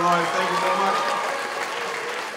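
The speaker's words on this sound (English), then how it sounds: "One round of applause. Make a little noise." Audience applause at a school talent show, a steady wash of clapping from a crowd filling the room, fairly loud and even throughout with a little voice mixed in.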